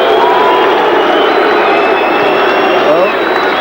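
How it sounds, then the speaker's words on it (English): A large boxing arena crowd at the Vodafone Arena after the Anthony Mundine v Lester Ellis fight roars and shouts in disapproval, a dense, loud, sustained wash of voices. "the crowd shows their disapproval of what happened"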